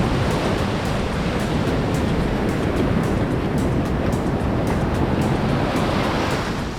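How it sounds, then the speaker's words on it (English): Surf on Freedom Beach in Phuket, Thailand, washes in as a dense, constant roar of ocean waves, loud and close, with some wind buffeting the microphone. "Welcome to the most beautiful beach in Phuket."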